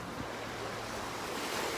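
Ocean waves wash onto a beach in a constant, full roar of surf, with steady wind buffeting the microphone the whole time and no voices.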